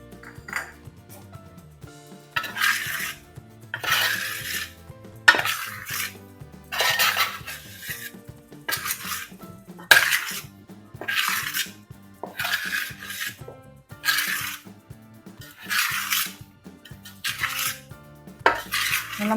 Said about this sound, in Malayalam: എല്ലാം നല്ലപോലെ ഒന്ന് മിക്സ് ചെയ്യണേ.